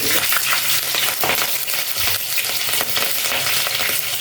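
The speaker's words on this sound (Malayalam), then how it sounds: "ഇത് പച്ചമുളകും കൂടെ ഒന്ന് ഇളക്കി" Green chilies frying in a pan being stirred, a loud continuous sizzle with scraping and stirring noises close by, no talk.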